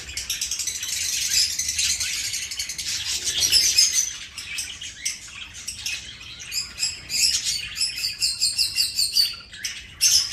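Budgies chirp and chatter continuously in a dense, close flock, with sharp tweets, squawks and warbling calls overlapping without pause.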